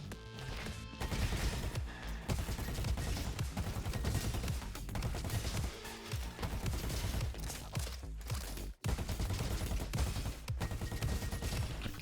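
Electric junk rifle fire in the shooter game Roboquest rattles almost continuously in dense rapid bursts, loud and near, broken by one brief pause.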